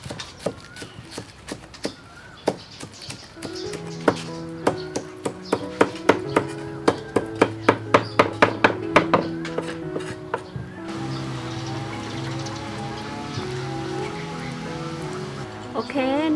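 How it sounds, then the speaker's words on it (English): Knife chopping green onion on a board in a home kitchen, with a run of sharp, evenly spaced taps that speed up and then stop, over a background of sizzling cooking and a low hum. "Cut green onion."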